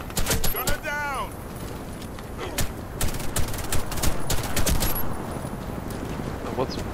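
Gunfire in the shooter game Warface crackles in sharp bursts and scattered single shots, with a player's voice talking over the action.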